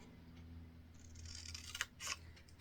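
Paper being cut with scissors for a crafted box, a few quiet close snips and slides in the second half over a low steady hum.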